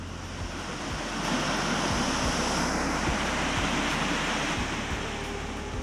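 A steady, roaring rush of falling water at a Thai jungle waterfall, continuous and full, with no voices.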